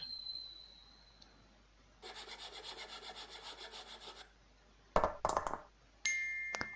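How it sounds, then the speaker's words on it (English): In an escape puzzle game, a saw cuts wood from a sledge with a steady run of rhythmic rasping strokes lasting about two seconds, followed by short clattering effects and a bright chime. "let's use the saw to get the wood from the sledge"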